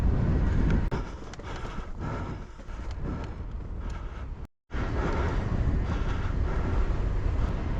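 Strong wind blows across a broad beach, heavy rumbling buffeting on the microphone that dips briefly and cuts out for a moment before returning just as loud.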